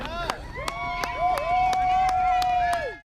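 A crowd cheers for runners at the Louisiana Marathon. One sustained, high whoop rises above repeated sharp claps and shouts, then cuts off abruptly at the end.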